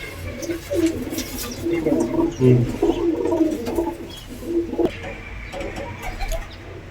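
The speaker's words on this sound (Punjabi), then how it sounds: "ਬਿੱਲੇ ਵੀਰ ਜੀ ਦੇ ਕਬੂਤਰ ਨੇ" Tournament-flying pigeons coo nearby in repeated throaty bursts, several birds overlapping, with a few faint chirps mixed in.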